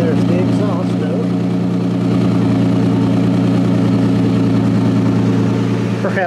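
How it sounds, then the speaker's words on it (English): A 2006 Toyota Tundra truck engine idles loudly and steadily up close, its low, throbbing exhaust note holding even throughout. "There's the exhaust note."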